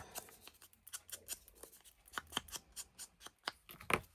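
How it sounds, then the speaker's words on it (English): Small scissors snip through paper during a papercraft project, giving a quick run of crisp, close cuts with a steady open-and-close rhythm and faint shuffling of paper between them. "your right hand's doing all the open and close scissor work"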